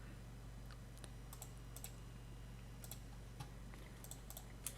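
Typing a command on a computer keyboard while fixing a USB drive's reduced capacity, with scattered light key clicks over a steady low hum, fairly faint and close.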